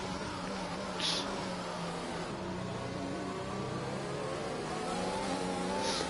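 F1 2021 race cars on the Japanese Grand Prix circuit roar past in a steady, sustained engine drone with shifting pitch, a couple of brief higher bursts riding over the continuous mid-range hum.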